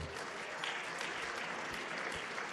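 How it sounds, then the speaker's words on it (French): Steady, dense clapping from an audience at an awards ceremony, continuous and full throughout with no voices standing out. "mérite une fois encore un round of applause"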